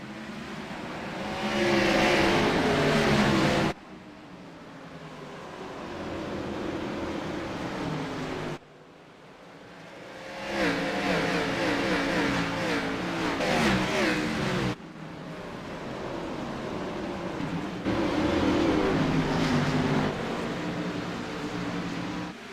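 Sim race cars in a race at Martinsville roar in a continuous loud engine drone, cutting sharply between dense pack engine sounds as the field gets underway.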